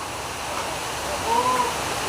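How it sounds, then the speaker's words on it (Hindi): Steady rain pouring down during an outdoor devotional Bhagavat katha gathering in Bhind, a continuous broadband wash like a downpour, loud and even throughout with a faint tonal trace midway. "आज पानी गिर रहा है"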